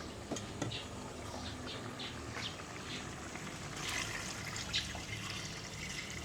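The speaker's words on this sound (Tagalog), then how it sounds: "Lagyan na po natin ng tubig." Water pours into a cooking pot holding ingredients that have released thick juices, a steady low splashing trickle with small drips and clinks, fairly quiet and without talk.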